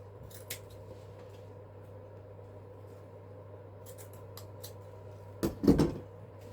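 Scissors snipping ribbon for an artificial spring wreath, a short close burst of cutting near the end over a steady low background hum, with a few faint handling rustles earlier.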